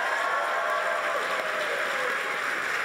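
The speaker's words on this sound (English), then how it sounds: "one last round of applause" Audience applause at a product launch event, a steady wash of clapping that fills the whole short stretch at moderate loudness with no voices.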